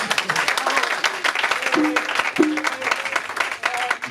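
Applause from a church congregation at a Sunday service, clapping mixed with cheering and raised voices, a few sustained vocal tones rising above the crowd noise.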